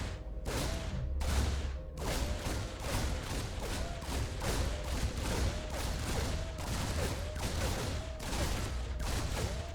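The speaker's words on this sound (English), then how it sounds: "3 Reapers firing away at a hatchery" Three Reapers in StarCraft 2 fire rapidly at a Zerg hatchery, a dense, continuous stream of loud gunfire bursts and impacts running throughout.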